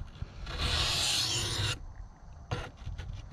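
Stainless steel knife blade drawn across a sharpening stone, one long rasping stroke followed by a shorter one, close and clear with quiet pauses between.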